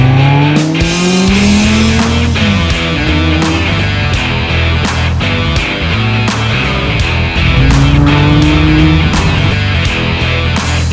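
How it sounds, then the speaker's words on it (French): A Renault 5 Turbo 2 on a test drive, its engine loud and close as revs rise and fall through gear changes, with sharp clicks and bursts between pulls and no talk. "on est sur l'essai de la Turbo 2, on est actuellement dans la rouge, celle de Alain."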